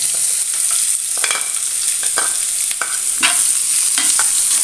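Chopped onion with cumin fries in a hot pan, a loud steady sizzle broken by several sharp stirring scrapes of a utensil against the pan, close and alone with no talk.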